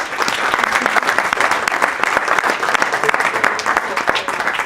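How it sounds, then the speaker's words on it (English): An audience at a Digital Bristol Week creative technology event gives the singers a big round of applause: dense, loud, sustained clapping close by, steady throughout. "I'd like a big round of applause for all of our singers here."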